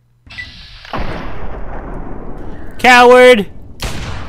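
Pistol shots in Fallout 3, loud single blasts with rumbling tails, broken up by a brief spoken word and a short electronic burst.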